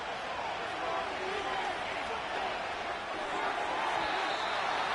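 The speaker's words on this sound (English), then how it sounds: "This crowd trying to be a factor, getting very loud now." Stadium crowd at a Buccaneers at Patriots football game roars steadily and loudly for the full stretch, a dense, sustained wash of voices with no single words standing out.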